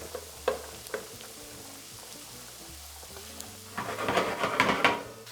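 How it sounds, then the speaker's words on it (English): Cut carrots, onions and celery go into a pan of oil. A few light clacks of handling give way to a sudden bright sizzling burst near the end that swells and crackles, with no one talking. "And then I'm gonna add all the carrots, onions, and celery that I cut up."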